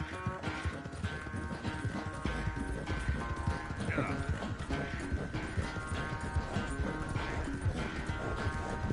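Rapid, steady horse hoofbeats gallop throughout in Red Dead Redemption 2, clip-clopping in quick rhythm under game music and occasional speech.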